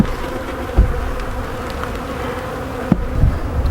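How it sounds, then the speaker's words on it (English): Honey bees buzz steadily around a hive split that has lost its queen, a dense, continuous insect hum close by with a few louder thumps, no voices. "these are most likely all bees from other hives"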